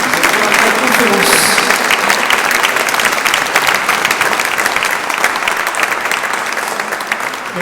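Lecture audience applauding, a dense sustained clapping from a large crowd that stays loud throughout and eases only slightly toward the end.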